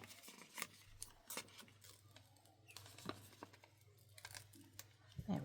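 A sticker being ripped off a sticker book page, its small chimney piece peeled away, gives quiet, crinkly tearing and patting bursts that come in scattered short clusters near the listener.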